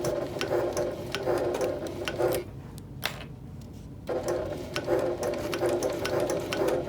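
A sewing machine runs steadily, stitching a rolled tote bag handle along its cording, with a brief pause midway before the motor whirs on again, close and alone.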